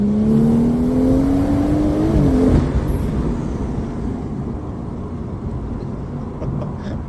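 A BMW 140i with a 500 hp B58 engine revs up with a rising tone, then drops back off and settles into a steady, loud mechanical drone.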